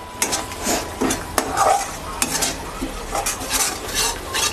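Chopped tomato hitting hot oil in a pan for a chanda fish curry, crackling sizzle with brisk, repeated spatula stirs and scrapes, close and loud, no voices.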